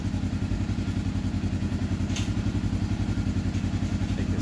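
Turbocharged Polaris RZR engine idling steadily, a loud, even low thrum with a fast regular pulse and faint clatter running throughout, no talk over it.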